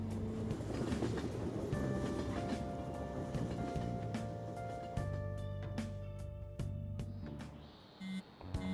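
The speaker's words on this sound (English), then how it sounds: "Oh, the train is here." A train arrives at a station in the video game Persona 5 Royal, with a rumbling, clattering approach and sustained tonal hums that fade as it slows, heard alone without talk.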